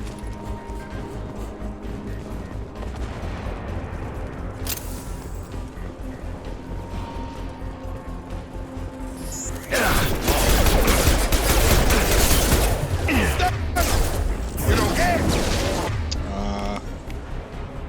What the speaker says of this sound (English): Didn't feel like I was firing very fast there.